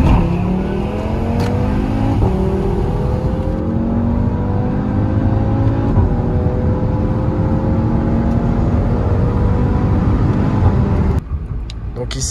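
An Audi RS3 accelerates away on a motorway, its engine climbing through rising revs with a gear change partway, loud and close throughout, ending in a sudden drop. Someone talks over the engine.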